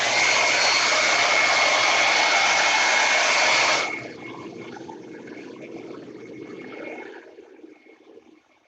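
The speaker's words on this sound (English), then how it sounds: "hit this with a blow dryer" A blow dryer aimed at clay slip during a handbuilding session roars loudly and steadily, then cuts to a quieter fading whir as it is switched off.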